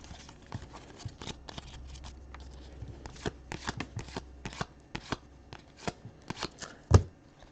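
Packs of sports trading cards being opened and handled during a live card break, giving a string of close, crisp crinkling and snapping sounds with an irregular rhythm and one sharper thump near the end, without speech.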